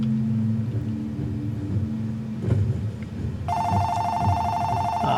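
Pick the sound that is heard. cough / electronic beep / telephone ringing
telephone ringing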